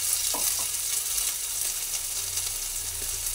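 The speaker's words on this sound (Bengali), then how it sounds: "সব ভেজে নিচ্ছি" Garlic and ginger fry in a pan with a bright, steady sizzle, close and continuous, with a few soft knocks and scrapes of a spatula moving them around.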